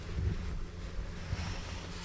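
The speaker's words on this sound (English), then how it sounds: "I do have the fan on" An electric fan runs inside a truck camper, giving a steady, soft broadband whoosh with a low rumble throughout and no talking.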